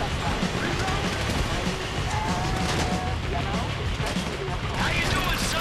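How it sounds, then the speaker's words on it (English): Gunfire rattles through a chaotic firefight in Grand Theft Auto 5, a dense continuous wall of shots and noise with voices shouting over it. "You hear that gun?"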